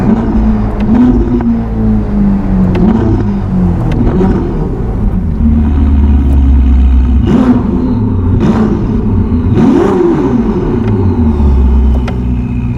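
A Novitec-tuned 1109 hp Ferrari SF90 Spider revs hard on cold tyres, its loud, close engine rising and falling in several sharp surges over a steady deep rumble, with no talking.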